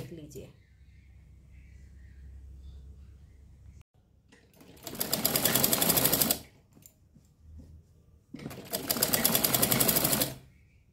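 A sewing machine stitches a homemade cooler cover in two loud, steady bursts of about a second and a half each, with quiet handling and talk in between.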